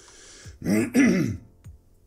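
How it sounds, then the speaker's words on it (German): A man clears his throat during a Minecraft let's play: a close, hoarse rasp in two quick bursts, then a small faint follow-up, with quiet moments around it. "Entschuldigung, dass ich mich so ein bisschen räuspere"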